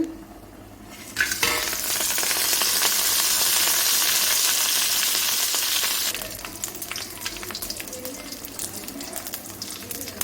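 Cinnamon, cloves and whole spices hit hot oil with a sudden loud, steady sizzle that holds strong for several seconds, then eases into a softer, crackling fry with small stirring clinks.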